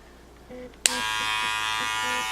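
Wahl 100 year anniversary hair clippers with an all-metal housing click on with a sharp snap, then run in a steady, close, high buzzing hum.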